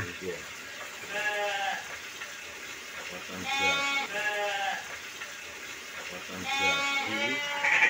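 Sheep bleat in repeated wavering calls on a farm where the animals are being fattened, several loud bleats close by against a steady pen background with no talk.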